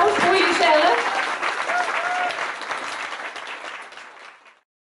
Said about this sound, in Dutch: En een applaus voor jezelf.